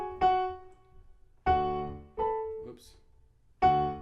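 Piano chords from the left-hand part of Scott Joplin's The Entertainer are played slowly as a few separate struck chords, each ringing and fading before the next one. Nothing else is heard.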